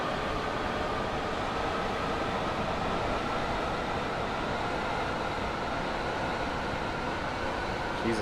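A long passenger train rolls past in Train Sim World 2020 on the Long Island Rail Road, a steady, continuous rumble and hiss of wheels and cars that holds evenly throughout without a break.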